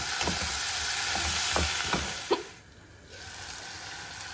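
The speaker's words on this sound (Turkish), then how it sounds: "Şimdi üzerine kesmiş olduğum domatesleri koyacağım. Bunları da böyle biraz birazcık çevireceğim." Chopped tomatoes tossed onto softened onions sizzle and fry in a pan, with a few stirring scrapes and bursts before the sizzle briefly dips, close and steady with no talk.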